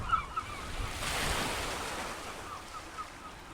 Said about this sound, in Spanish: dejando que el sonido del agua contra el casco rompiera el silencio